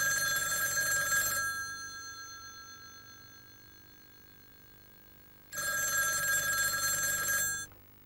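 A telephone bell rings in two long bursts separated by a few seconds of quiet, bright and fairly close, with no voices over it.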